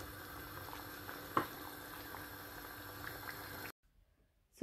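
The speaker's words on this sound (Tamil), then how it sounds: "சேர்த்து ஒரு நிமிடம் இதை கொதிக்க விட்டுட்டு ஒரு டிஷ்ஷுக்கு மாற்ற போகிறேன்." A taro and tamarind curry with coconut milk simmers in a pot, with a soft, steady bubbling and one sharper pop before the sound cuts off near the end.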